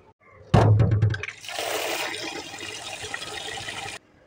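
Tap water gushes into a kitchen sink basin while chicken is rinsed by hand, a loud sudden burst settling into a steady running stream for a few seconds before cutting off, with no talking.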